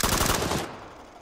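Gunfire in a video game: a short, rapid burst of automatic shots lasting about half a second, then fading into a quiet tail.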